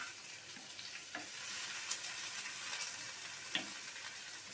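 A large chopped onion frying in hot oil with panch phoron spices, giving a steady broadband sizzle at moderate to low volume with a few faint scrapes or taps, and no voices.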